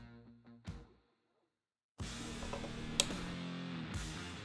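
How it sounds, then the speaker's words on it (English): Screws are tightened on a Harley-Davidson radio fairing with a tool that gives close mechanical ratcheting and clicking. The sound comes in two bursts with a silent gap between them. "just double check all the screws that I didn't take out just to make sure that they're tightened down"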